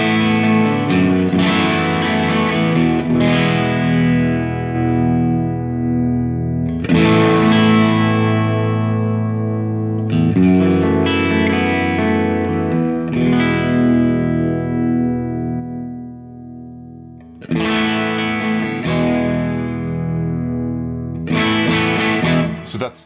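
Electric guitar through a boutique overdrive tone modelled in ToneX, strummed chords ringing out in long, gritty, sustained phrases with short gaps between them, played alone for over twenty seconds.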